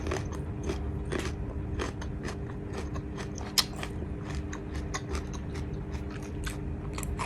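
Crispy candied jujube being bitten and chewed up close, giving a steady run of crunchy, crackly bites with one sharp louder crunch midway, with no talking.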